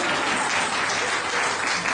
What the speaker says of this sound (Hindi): और अब आप लोग ताली बजाइए